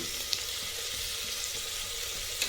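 Bay leaf and cloves dropped into hot oil, an even, continuous sizzle with a couple of faint pops, close and alone with no talking.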